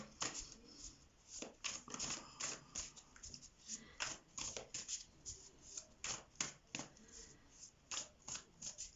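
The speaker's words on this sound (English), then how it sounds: "let's cut the cards" A deck of tarot cards is riffled and cut by hand at close range in repeated soft flurries and slaps, with quiet pauses between bursts.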